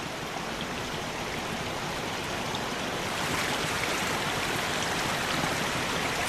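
Water rushes continuously down a mountain stream on Mt Ishizuchi in winter, a dense, steady broadband roar that swells slightly louder partway through, with no voices.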